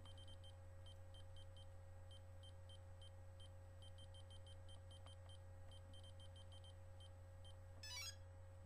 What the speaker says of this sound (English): I'm going to increase that value until I get the beep on the motor.